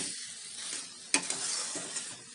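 Water poured into spice masala frying in a pan sets off a loud, steady sizzle at close range, with a sharp burst as it hits and faint stirring clinks after it.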